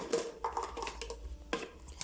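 Rice goes into a rice cooker and the lid is set on, giving soft close clinks and light knocks of the pot and cover, two or three brief metallic taps in a quiet kitchen.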